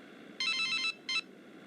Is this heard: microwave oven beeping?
no